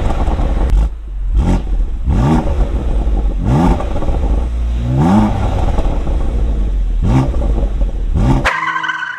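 A BMW M2 Competition fitted with a diffuser and exhaust flaps is revved repeatedly while stationary, with several sharp rising blips over a steady idle. It is loud and close, and a brief other sound comes in at the very end.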